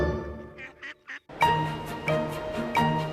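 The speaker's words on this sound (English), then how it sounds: "What about the ducks and the swan?" Ducks quack loudly and close by: a few short calls, then a brief pause and a run of harsher, repeated honking quacks.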